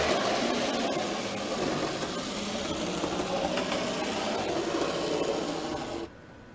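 A steady mechanical rumble and whir of an N scale model train running on its track, then drops off abruptly near the end as it stops, leaving faint hum.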